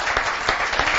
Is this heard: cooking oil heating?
no